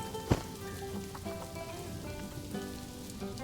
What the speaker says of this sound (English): So it looks like the tigers are okay with rain.